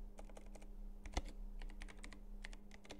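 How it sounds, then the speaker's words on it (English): Rapid, irregular key taps on a computer keyboard as a text prompt is typed, quiet and close over a faint steady hum, with one slightly louder keystroke near the middle. "now I'm gonna go ahead and go to my next keyframe. For that, I'm gonna type in my textual prompt"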